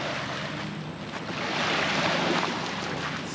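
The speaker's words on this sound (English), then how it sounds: "there's a lot of big boat traffic through here, so there's a whole bunch of waves" Waves from passing big-boat traffic on a lake, washing and splashing against a small center-console fishing boat, a steady broad rush that swells slightly, with wind noise and no talking.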